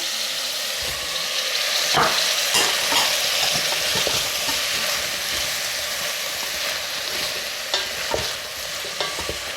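Cauliflower for vegetable biryani frying in a hot pan, with a loud, continuous sizzle broken by repeated clacks and scrapes of stirring, close up and with no voices.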